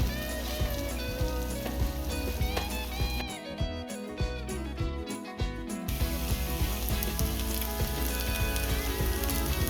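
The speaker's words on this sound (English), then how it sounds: "he's going to get them frying up in the cast iron skillet" A constant sizzle of potatoes frying in a cast iron skillet, crackling steadily beneath soft background music.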